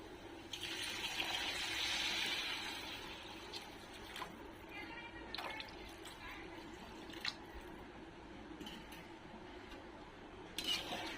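Water runs into a pot of rice with a splashing, hissing pour for a couple of seconds, then softer trickles and clinks continue under a quiet kitchen background.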